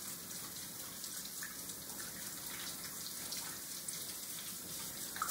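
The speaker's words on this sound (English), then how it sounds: "you can turn the water off" Tap water runs into a kitchen sink during handwashing, a faint but steady splashing hiss with no talk over it.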